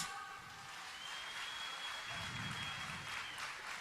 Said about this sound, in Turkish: Gelsin bütün alkışlar